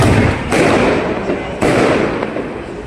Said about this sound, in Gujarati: ગાઈસ ફટાકડા ફોડીને એન્જોય કરીએ.